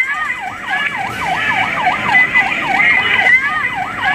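A fire truck siren wails at a residential fire, its rapid rising-and-falling cycles repeating loudly and close, with traffic rumbling underneath.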